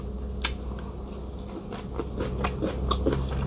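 Crunchy bites and chewing of a Jamaican-style moringa drumstick stir fry, heard as close, irregular crackling crunches with no speech.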